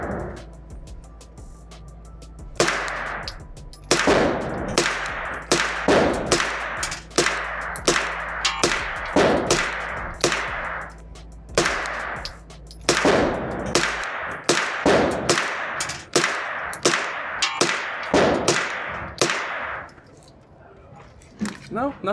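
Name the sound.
9mm CMMG pistol caliber carbine gunshots, 124 grain ammo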